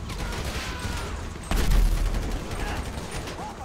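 Gunfire in Grand Theft Auto 5 during a shootout, a dense burst of rapid shots jumping loud at the midpoint and rattling on, with voices in the clip.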